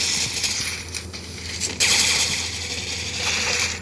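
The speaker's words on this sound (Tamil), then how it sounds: "கன்னு சுடுற சவுண்டு பார்த்தீங்களா?" Gunfire in the Free Fire mobile game: loud, close, rapid mechanical clattering and metallic bursts running continuously, with one sharper crack midway, and no talking.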